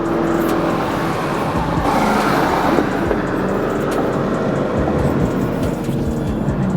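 A 2021 BMW M440i in Sport Plus mode accelerating hard: a loud, continuous engine roar from inside the car holds steady and rough for several seconds with no talking.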